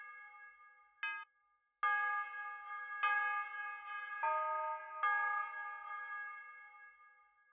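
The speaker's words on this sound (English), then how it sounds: "Now we're just going to add a bell" A bell sample in a trap beat rings in a pattern of bright metallic strikes, each sustaining and decaying, with a short reversed or clipped hit early on, alone without talk.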